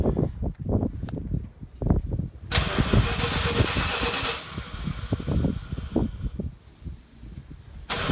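A Plymouth Duster A-body car cranks with a rhythmic churning starter for a couple of seconds, then catches and roars to life. It settles into a rough, pulsing idle close by.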